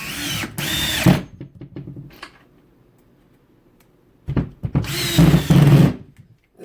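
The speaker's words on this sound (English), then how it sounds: "These 1 3/8 drywall screws. Drive those all day long for you." A 12V cordless screwdriver drives 1 3/8 inch drywall screws in two loud, close bursts of whirring motor and screw bite, each about a second long, with a quieter mechanical gap between them and no talking.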